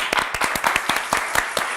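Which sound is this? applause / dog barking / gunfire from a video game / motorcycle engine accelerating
applause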